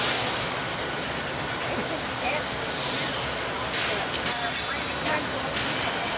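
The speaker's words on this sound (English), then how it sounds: "And there goes 355 heading south on the AGS, south." Norfolk Southern train 355 rolls past heading south on the AGS line, a steady rumbling wash of wheels and wagons with some brief squealing, close and loud.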